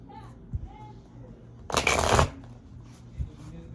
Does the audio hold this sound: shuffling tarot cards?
yes